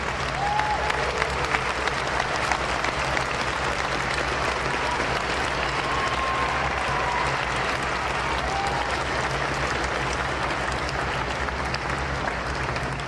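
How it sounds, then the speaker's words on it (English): Graduates at a 2013 college graduation ceremony on the FRCC Larimer campus clap for their families, filling the hall with dense, steady applause from a large crowd that holds at an even level throughout. "So would you do that right now with me? Is clap for your families,"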